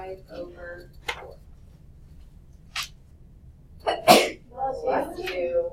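A single sharp sneeze bursts out in a quiet classroom during a math lesson, following a few brief scattered sounds and some faint speech.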